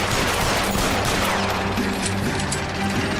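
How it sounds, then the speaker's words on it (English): Rapid bursts of gunfire in the video game L.A. Noire, loud and continuous, a dense fusillade with mechanical clatter throughout, no talking. "I'm gonna turn around and shoot at him."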